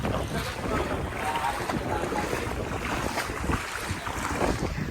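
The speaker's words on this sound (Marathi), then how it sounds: "आज खूपच पाऊस आहे सगळीकडे पाऊस आहे" Heavy monsoon rain pours down on a farmhouse in Lonavala, a loud, unbroken broadband roar close to the microphone with gusty wind buffeting.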